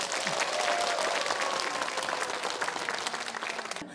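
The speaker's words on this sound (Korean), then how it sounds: "우리 학생들에게도 박수 보내주세요" Applause from the audience at a singing contest for adult song-class students, honoring the student judges: dense, steady clapping that fills the whole stretch and tapers slightly at the end.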